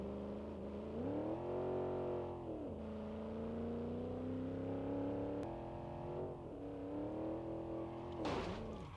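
A simulated car engine in BeamNG.drive on a highway run, revving up and dropping through gear changes in a steady, close drone with a short burst of noise near the end; no talking.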